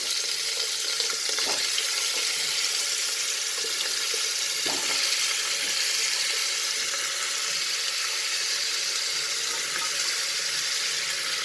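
Vegetables with carrot frying in a pan, a steady hissing sizzle that runs evenly throughout with occasional soft knocks and stirring sounds, no voices.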